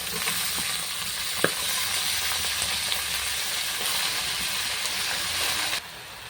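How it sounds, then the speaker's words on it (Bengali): Chopped onions frying in a pan with Malabar spinach added give a steady, even sizzle and hiss with faint stirring clicks, continuous and close, ending abruptly. "পেঁয়াজটা ভাজা হয়ে গেছে এরপর আমি পুঁই শাকটা দিয়ে দেবো"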